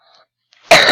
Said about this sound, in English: Sorry about all the coughing and stuff.